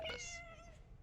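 A cat meows once in a video game, a single short drawn-out call that trails off, close and clear, with no talk.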